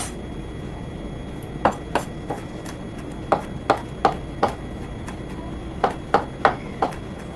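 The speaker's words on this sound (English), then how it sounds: "chopping up the 1 garlic." A knife chops a garlic clove sharply on a cutting board in uneven bursts, about a dozen quick strikes with short pauses, close and clear over faint hiss.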